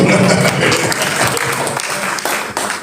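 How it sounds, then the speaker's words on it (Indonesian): A church congregation applauds warmly, a dense wash of clapping that gradually eases off. "Berikan tepuk tangan."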